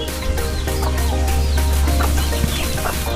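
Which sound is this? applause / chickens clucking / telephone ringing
chickens clucking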